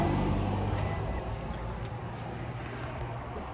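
A passing car rushes by outdoors as a broad, steady whoosh of engine and tyre noise that is loudest at the start and eases slightly as it moves away, with no talk.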